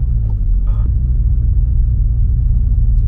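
Deep, continuous exhaust drone from a Mk7 Volkswagen GTI running an ECS Tuning muffler delete, heard close and loud at a steady cruise, with a brief faint tonal chirp early on.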